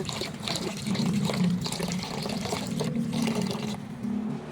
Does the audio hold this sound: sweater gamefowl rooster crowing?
no